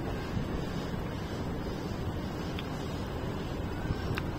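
Steady wind buffets the microphone in a low continuous rush, fairly quiet, with no talking.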